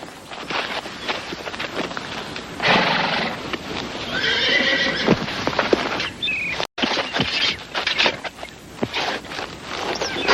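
A horse neighs loudly a couple of times, with hooves clopping and outdoor bustle around it.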